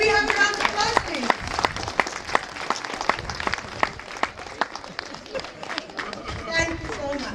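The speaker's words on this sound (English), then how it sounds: "Ladies and gentlemen, may we have a round of applause, please?" An audience at a book launch in Kathmandu gives a lively round of applause, dense clapping with sharp individual claps standing out, while people chatter and talk over it.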